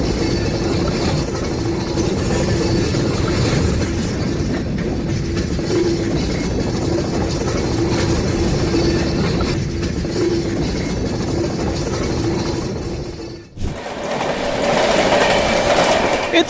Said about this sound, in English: A remarkably rare instance where a derailed tank car was dragged for over a mile